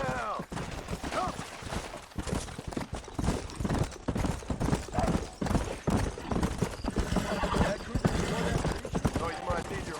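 In the western video game Red Dead Redemption, horse hooves clip-clop rapidly amid bursts of gunfire and a whinny, with a voice talking over the busy, loud action.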